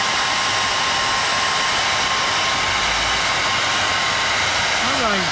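A heat gun blows a steady, loud airy hiss with a faint whine, held constant throughout while warming tint film on an EP3 rear light; a brief rising squeak appears right at the end.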